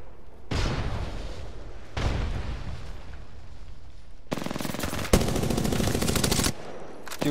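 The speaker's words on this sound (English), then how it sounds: "Throw my grenade out." Video game combat: two heavy blasts with rumbling decay, like a grenade explosion, followed by a loud sustained burst of rapid automatic gunfire and a final short shot.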